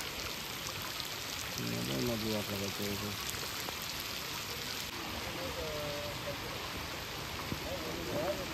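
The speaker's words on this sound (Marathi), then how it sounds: "आणि पाऊस आलेला आहे जोरात" Heavy rain pours onto a flooded Konkan rice paddy field during rice transplanting, a constant hiss of water with voices talking and calling out over it.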